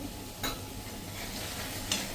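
Continuous sizzling from a hot pan of eggplant with a couple of sharp scrapes of a utensil stirring the contents.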